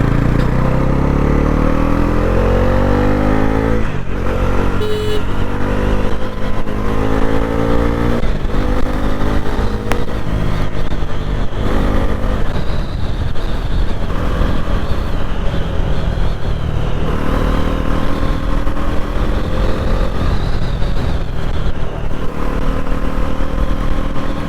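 A Bajaj Pulsar NS400Z motorcycle accelerates hard on a short empty road during a speed test, its engine note loud and close and climbing steadily through the gears, with heavy wind rush throughout.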